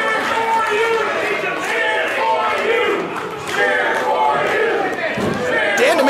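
Crowd cheering and shouting at a live independent wrestling match during a no-disqualification bout, a dense, steady roar of many voices filling the arena at close range, with broadcast commentary over it.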